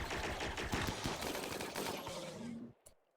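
Gunfire in the video game RimWorld as reinforcements open up, a dense burst of rapid, overlapping shots that stays fairly loud for over two seconds, then cuts off abruptly.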